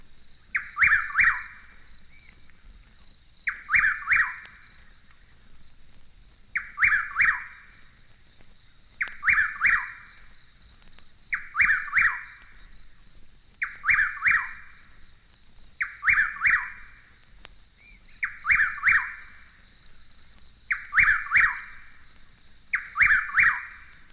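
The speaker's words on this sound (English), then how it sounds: "The whippoorwill has a southern cousin who calls himself Chuck-will-twiddle." A chuck-will's-widow, the southern cousin of the whippoorwill, repeats its whistled multi-note call about ten times at an even pace, clear and close against a steady faint high insect-like drone.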